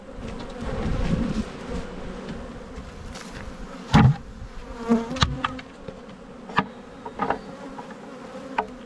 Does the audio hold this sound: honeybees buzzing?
yes